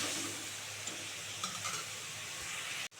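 Masala paste sautéing in hot oil in a pan for a Bengali banana flower dish, a steady close sizzle with occasional stirring scrapes, ending in an abrupt clatter.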